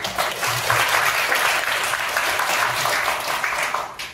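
An audience at a history lecture claps steadily, a dense wash of applause sustained for about four seconds at even loudness, with no one speaking over it.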